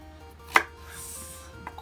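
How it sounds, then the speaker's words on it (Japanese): A single sharp knife stroke cuts through a hard carrot on a cutting board, one crisp chop near the middle, quiet overall with no voices. "人参はね、ちょっと硬いんで切ると気をつけてください"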